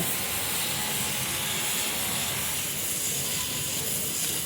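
A pressure cooker of dal hisses steam on the stove, a loud, steady, broad rushing hiss that continues without a break.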